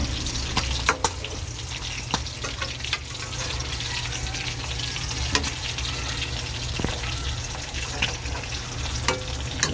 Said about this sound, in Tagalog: naputok pa yung ating piniprito